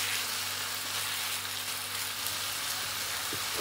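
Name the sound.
food with black pepper cooking and sizzling in a pan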